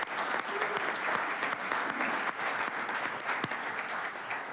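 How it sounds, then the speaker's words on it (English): Council chamber applause for the Minto Cup organizing committee at a St. Catharines city council meeting, a full, even round of clapping from the gathered room that continues throughout. "a round of applause for the organizing committee one more time for the Minto Cup"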